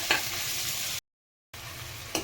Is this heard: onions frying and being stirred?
yes